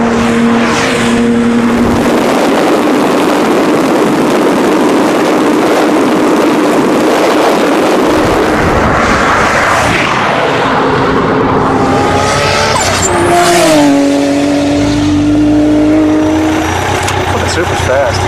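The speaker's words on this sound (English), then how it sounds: "The Supra allows the Lamborghini a little bit of a jump, knowing that it's got enough horsepower to chase it down" A Toyota Supra and a Lamborghini race, their engines loud and close, revving and accelerating hard with rising gear-change sweeps and some tire noise, under talk.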